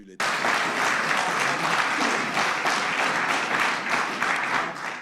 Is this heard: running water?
no